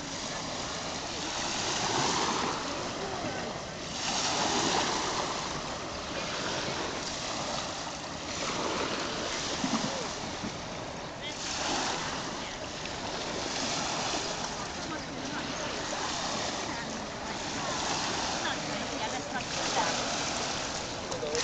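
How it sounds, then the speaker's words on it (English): A large ferry passes on the Danube River, its engine and bow waves making a steady broad wash and rumble that swells and fades over the scene, with people talking faintly in the background. "See the big ferry coming."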